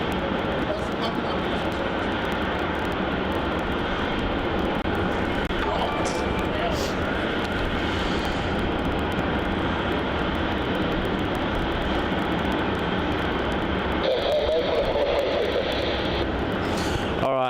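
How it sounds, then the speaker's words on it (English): A Jetstar A320 touches down on runway 34 at Melbourne Airport after a flight from Launceston, its steady broadband jet roar holding at moderate distance throughout, with a tonal whine rising near the end. "we do have that Jetstar A320 arrival here from Launceston, JQ730, about to touch down on runway 34"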